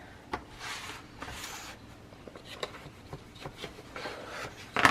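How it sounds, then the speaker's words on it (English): A bone folder rubbed firmly along the wrapped edge of a craft work-station side panel gives a few soft, dry scraping strokes of moderate level, with a sharper brush or tap at the very end. "I'm going to take my bone folder and I'm going to run it across that edge just to kind of sharpen it and flatten it out"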